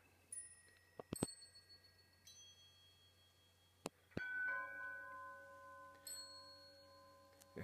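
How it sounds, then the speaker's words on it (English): Haunted bells example generated in Sonic Pi: sparse, ringing bell strikes at irregular intervals, each with a long decaying tone, some struck in quick pairs, clear and alone against a quiet background. "And here you can hear the bells just playing there."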